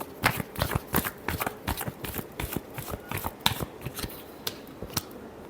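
Tarot cards are shuffled by hand in a rapid run of crisp riffling and slapping bursts, close up and fairly quiet, with no talking.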